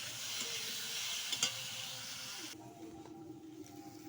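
Water poured into a hot pan with potatoes bursts into a loud, rushing hiss that cuts off abruptly after a couple of seconds, leaving a quieter simmer.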